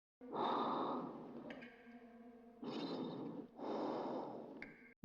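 Astronaut breathing heavily inside a spacesuit helmet in the 1968 film 2001: A Space Odyssey, three slow, loud, hollow breaths in a steady rhythm, separated by quiet gaps carrying faint electronic tones.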